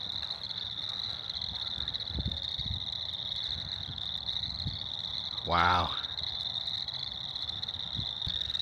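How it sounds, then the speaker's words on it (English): Frogs chorus at a marsh near Detroit Lakes, Minnesota, in a faint, steady high-pitched trill that runs throughout, with a short exclamation from a person partway through. "Listen to that. You hear those are frogs."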